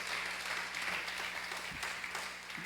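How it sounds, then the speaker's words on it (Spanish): A congregation in a church claps together in sustained, even applause that carries through the whole moment, heard from inside the hall with no clear speech over it. "Dale un aplauso fuerte al Señor en esta hora."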